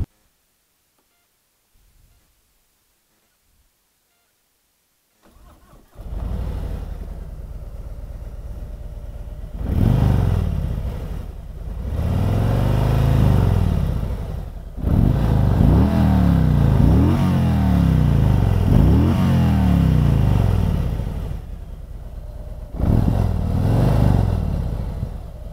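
Harley-Davidson Road King motorcycle: after a few faint clicks and near silence, the engine cranks and fires into a loud, close, rumbling idle, then revs up and down repeatedly in strong swells.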